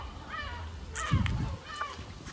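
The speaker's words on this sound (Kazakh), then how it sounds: "Үйренген шағала." A tame gull on an island gives several harsh, drawn-out cries close by, separated by short gaps, over a low outdoor rumble.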